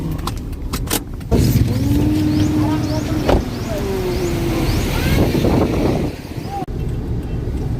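Road traffic heard from inside a car: steady engine and road rumble, passing-vehicle swooshes and a few clicks, with brief talk in the cabin.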